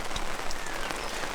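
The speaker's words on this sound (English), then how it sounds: "It's still raining." Steady rain falls and patters on a surface outdoors during a wet morning at a camp in the high country, a continuous even hiss with scattered close drops and no talking.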